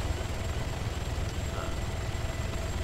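Helicopter in a video game, a steady muffled rotor and engine drone that holds constant throughout at moderate level, with no talking over it.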